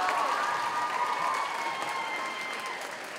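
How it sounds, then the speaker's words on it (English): Audience applause in a middle school auditorium at a student talent show, a dense steady clapping that holds loud throughout and eases slightly toward the end, with no talking. "One more time, one more round of applause,"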